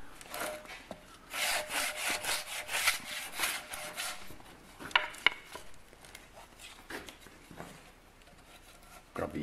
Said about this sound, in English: So now he's going to sand it, holding sandpaper, and you can see the difference.